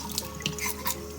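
Tap water runs into a sink while scales are washed off a trout, a steady near splashing stream with small irregular splatters.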